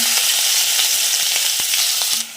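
Chili masala sizzling as it fries in a pan with garlic, for a Maharashtrian banana flower vegetable dish; a steady, close, loud frying hiss throughout, with no talk.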